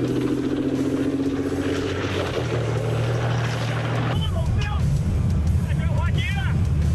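A Type 99A main battle tank accelerating on a firing range, its heavy engine and tracks making a loud, steady low rumble that thickens and grows harsher partway through, with radio voices talking over it.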